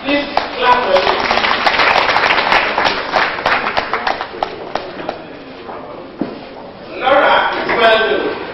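An audience claps at a mosque flag-off and fire service agency opening in Lagos, dense rapid hand claps filling most of the stretch, tapering, then a fresh burst near the end, with voices mixed in.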